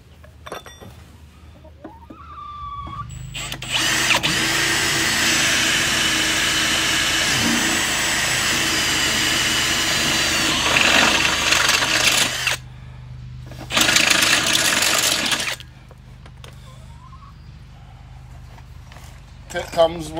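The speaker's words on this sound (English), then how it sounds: "Drill this out with what I refer to as a unibit. Some people call it a step bit or a pyramid bit." A power drill with a unibit step bit whines steadily for several seconds while boring a hole for mounting a CheckMate striper on a zero-turn mower, cutting off, then a short second burst, with talk around it.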